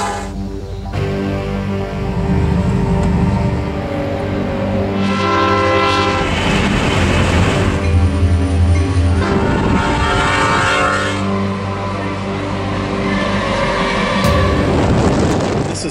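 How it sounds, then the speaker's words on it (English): A Norfolk Southern train rolls through town, its horn blaring in long, loud tones over the continuous rumble and clickety-clack of wheels on rails, sustained and fairly close throughout. "there's a Norfolk and Southern train running through town"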